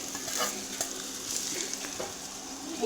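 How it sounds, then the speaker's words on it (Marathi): Churma sizzles in a hot oil tempering while a spoon scrapes and stirs through it in repeated strokes, close by. "तर आता आपल्याला हे चुरमा टाकून द्यायचा आहे याच्यामध्ये"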